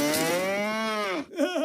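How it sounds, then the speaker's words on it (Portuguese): A cartoon cow in Family Guy gives one long, loud, close moo that holds steady, then ends in a short wavering grunt. "ele tem uma vaca no quintal"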